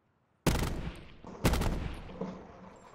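Gunfire in the online shooter game Firebreak: two loud, close bursts of shots about a second apart, each trailing off in a ringing decay after near silence, no speech.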